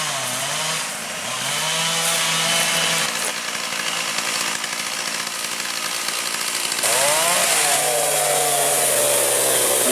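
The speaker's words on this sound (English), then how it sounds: "So on my way out, I hear the chainsaw." A chainsaw cutting through dead timber at deer camp, loud and continuous with a droning motor whose pitch dips and rises as the chain bites and revs.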